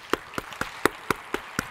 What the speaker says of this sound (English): And I would like then to finish by a final round of applause to Stan